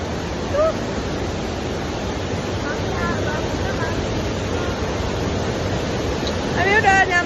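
The Sialogo waterfall roars in a dense, unbroken rush of falling water close by, with brief voices rising over it near the end.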